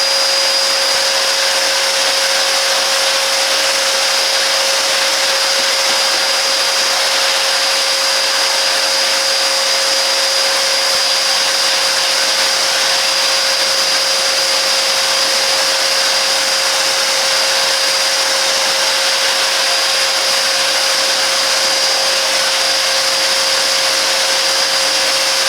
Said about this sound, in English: Equipped with a robust motor, delivers strong suction power that efficiently lifts dirt, stains and allergens from carpets and upholstery